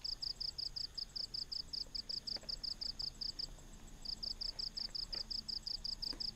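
Crickets chirp at night in steady rapid pulsed trains, a brief pause midway, loud and continuous over faint background ambience.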